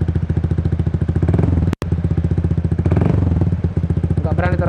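A modified Honda PCX 150 scooter engine revs loudly and close, with a rough, pulsing idle, a brief cutout, then rising throttle bursts.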